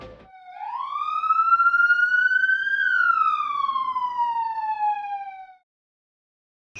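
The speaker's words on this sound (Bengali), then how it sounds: "তুমি বাড়ি থেকে পুলিশের সাইরেনের আওয়াজ পাচ্ছ কিনা?" A police siren wails in a single long sweep, rising then gliding back down, loud and close with no other sound, then cuts off abruptly; heard in a Bengali short drama.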